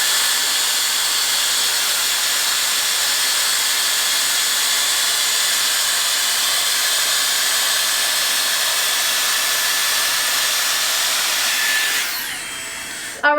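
A Dyson Airstrait hair straightener blows a steady, loud, hissing stream of cold-shot air without a break, then cuts off near the end.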